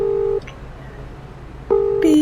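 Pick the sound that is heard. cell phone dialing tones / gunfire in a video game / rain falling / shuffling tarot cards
cell phone dialing tones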